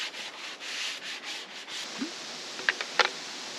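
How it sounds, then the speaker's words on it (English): Rhythmic rasping strokes of sandpaper rubbing on a wooden dog kennel lid, close and steady, followed by a few sharp clicks and taps. "A little more sanding on top"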